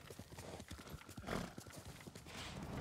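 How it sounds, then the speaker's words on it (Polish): Horse hooves in Ghost of Tsushima clatter in a quick, steady galloping rhythm, close and distinct, with a faint whoosh of movement behind them. "Bardzo dobry koń, dobrze się sprawuje."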